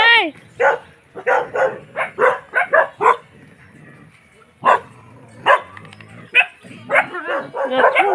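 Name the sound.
dogs barking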